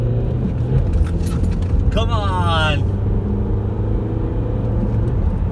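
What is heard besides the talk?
car accelerating hard after shifting into second gear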